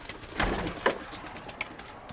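Soft cooing from pigeon squabs, a couple of low throaty coos close by against a quiet background.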